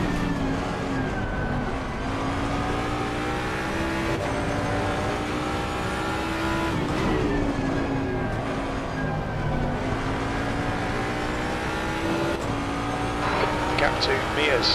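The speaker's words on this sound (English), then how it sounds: "Okay, Steve, there's a car exiting the pits, heads up." GT3 race car engine in the Assetto Corsa Competizione sim at Zolder, droning loudly and continuously with steady revs and gear shifts throughout, no talk.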